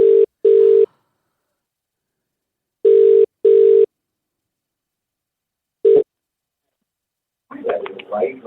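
A telephone rings in paired bursts, twice, with a short cut-off ring after a pause, then a voice briefly speaks at the end.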